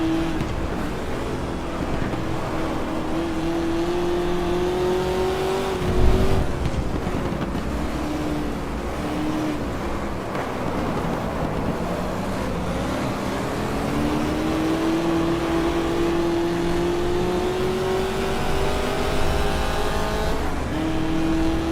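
Race car engines roar in the GT Legends racing game, a TVR among them, one engine droning loud and steady and rising in pitch through the gears, with other cars whining alongside it and no voices.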